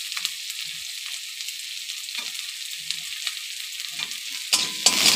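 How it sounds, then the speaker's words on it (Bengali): Onion, ginger, garlic and green chili frying together in a pan, a soft continuous hiss of oil with a few quiet stirring scrapes and a louder crackling burst near the end, no voices. "মোটামুটি একটু ভেজে নেব, মানে ব্রাউন কালারটা আসবে হালকা"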